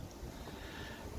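Faint, steady wind buffets an outdoor microphone on a grey, drizzly late-summer day, a soft, continuous rushing with no other sounds over it.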